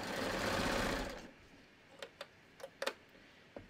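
A serger runs a fast, steady stitching burst along a t-shirt neckline for about a second, then stops, leaving only a few light clicks and taps.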